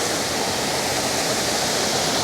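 Linn Falls waterfall roars as a steady, dense wash of rushing water, heard close and loud without a break and with no voices over it.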